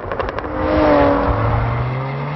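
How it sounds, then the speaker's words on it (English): A Jaguar F-Type S sports car prototype engine swells in a throaty rise, then settles into a steady, fairly close drone on road or track. "You know a car's good when you smile when you just hear the noise."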